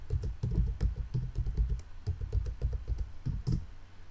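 A password is typed on a computer keyboard in quick, irregular bursts of close, crisp key clicks with short pauses, quiet and alone.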